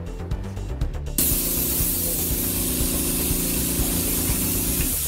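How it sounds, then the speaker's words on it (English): Disinfectant spray hisses steadily for about four seconds in a cruise ship hall, with crews in protective suits spraying, after a short stretch of clicking and tapping. "crews wearing protective suits, actually, and face masks, spraying the halls to try and clear the outbreak"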